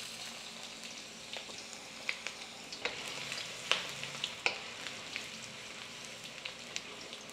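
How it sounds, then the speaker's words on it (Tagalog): Ginger sizzles in a hot wok, a soft continuous frying hiss broken by scattered sharp crackles and pops while it is stirred, fairly quiet and with no voices. "sa same wok, magigisa lang tayo. Unahin na natin yung luya."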